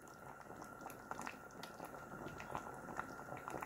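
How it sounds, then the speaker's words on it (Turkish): Chopped tomatoes simmer in a pot for homemade tomato sauce, giving off a very faint, steady bubbling with soft pops and small liquid blips scattered throughout. "Domatesler eriyene kadar ara ara karıştırarak yaklaşık yarım saat kadar pişireceğim."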